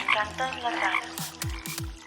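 Frogs croaking in the Sumapaz countryside, a chorus of rhythmic croaks near and clear, with a few deeper repeated calls later in the clip.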